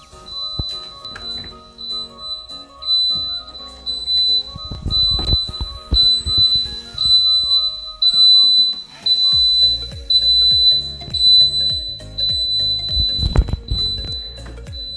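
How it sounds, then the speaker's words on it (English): A shrill electronic door alarm rings on and off in repeated bursts, loud and piercing, with clattering and knocking noises scattered underneath. "This is the sound that the door makes if somebody leaves and they're not supposed to leave."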